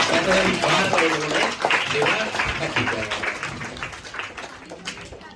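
Applause from an audience at a Sainik School selection event in Gujarat, cheering two selected students; steady mixed clapping for about five seconds, with voices and chatter mixed in, tapering slightly toward the end.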